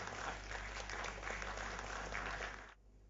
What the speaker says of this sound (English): And one more round of applause for our panelists.